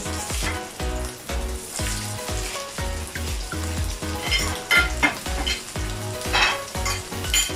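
Frozen beef burger patties fry in a pan with a loud, steady sizzle and crackle close by. Rhythmic bursts recur throughout, and no one speaks.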